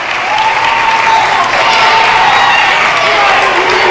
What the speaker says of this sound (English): You hear the fans booing the ref.